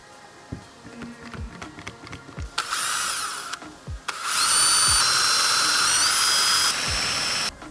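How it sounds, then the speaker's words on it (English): Power drill boring pilot holes through a van roof using a template, several short whirring bursts and thumps leading into two longer sustained high-pitched drilling runs, loud and close. "I'm going to drill those pilot holes using that as a template"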